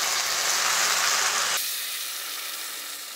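Water is poured into a hot pan and hisses in a loud, steady sizzle that cuts off sharply halfway through, leaving a quieter fading hiss, close up and alone.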